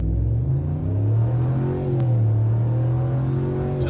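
A 2019 RAM 1500 pickup's engine revs hard while held on the foot brake, a loud, close, sustained droning roar whose pitch climbs and wavers throughout, with no talking.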